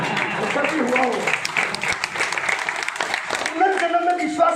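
An audience at a business meeting claps in a dense, fairly loud burst of applause that continues throughout, with a voice speaking over it toward the end.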